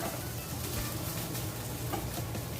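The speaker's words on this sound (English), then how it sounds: "And let's stir the potatoes." Fried potatoes sizzle steadily in a Ninja Foodi while being stirred, a dense, continuous frying hiss with soft scraping underneath, close and even throughout.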